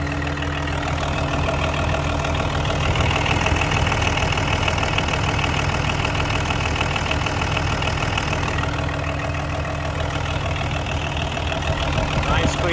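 Mitsubishi diesel engine idling in a 2010 IHI 1070-2 tracked dumper, a loud, steady low rumble with a constant mechanical clatter running unbroken from start to end.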